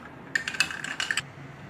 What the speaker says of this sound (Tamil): இப்போது ஐஸ் க்யூப்ஸ் ஆட் பண்ணிக்கோங்க.